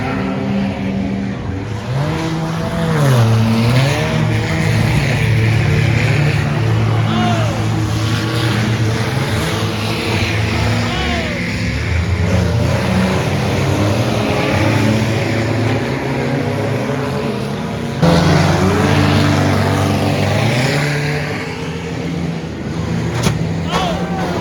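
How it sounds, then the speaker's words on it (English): A car revs hard for a burnout at a Tour of Destruction demolition event in Hickory, North Carolina, on a rainy day. The engine roars loudly and continuously with rising and falling revs, and voices come through faintly underneath. "we'll be doing a burnout here in a little bit"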